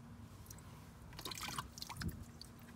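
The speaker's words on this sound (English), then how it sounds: "Now you want to take your horsehair brush and dip it in water." Scattered wet drips and small splashes of water from a horsehair brush dipped in water, close by and fairly quiet, with a soft trickle in the middle.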